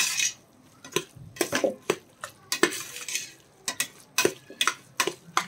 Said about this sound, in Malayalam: അതുവരെ നമുക്കൊന്ന് ഇളക്കി കൊടുക്കാം